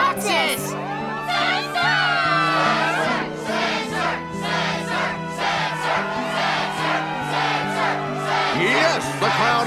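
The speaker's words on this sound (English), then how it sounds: "Yes, the crowd is fired up," Crowd in the video game Kingdom Hearts II cheering at a struggle tournament in Twilight Town, a loud continuous roar of shouting voices with whoops and yells layered over sustained game music tones.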